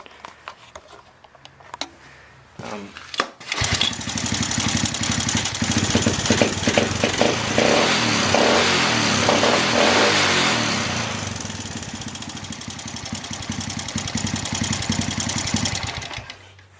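Honda three-wheeler engine, idle for two years and just repaired, starts after a few clicks and clatters and then runs loud and close with a rapid, rough, steady putter, easing slightly before it picks up again, with no talking.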